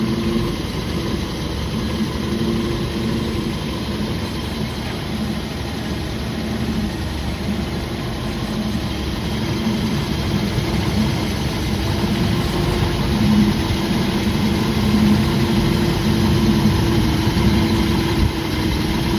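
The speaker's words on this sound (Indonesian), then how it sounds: "Ini ruang mesinnya dan suara mesinnya." Engine of a 1993 Toyota Kijang Super G short-wheelbase idles steadily with the hood open, a loud, even low rumble holding unchanged throughout with no voices.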